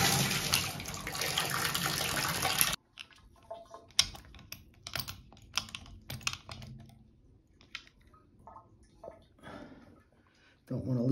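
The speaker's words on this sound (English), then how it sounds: "So we got the diverter all the way in and water coming out of the shower head." Water sprays from a shower head in an apartment bathroom after the diverter is pushed fully in, a loud steady hiss for about three seconds that cuts off abruptly, followed by scattered clicks and handling noises.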